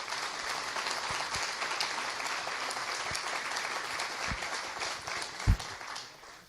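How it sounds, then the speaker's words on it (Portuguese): Audience at a talk on parenting and children's education applauds steadily for several seconds, dense far-off clapping filling the room with a few louder nearby claps and a thump before fading. "Dê uma salva de palmas para o teu pai e para a tua mãe"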